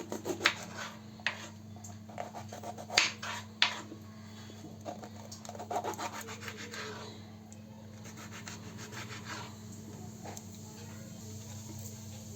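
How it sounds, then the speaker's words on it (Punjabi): Knife cutting bell pepper and onion on a board, a scattered series of crisp taps and scrapes, quicker at first then sparser, fairly quiet over a steady low hum. "ਸ਼ਿਮਲਾ ਮਿਰਚ ਵੀ ਆਪਾਂ ਕੱਟ ਲਵਾਂਗੇ"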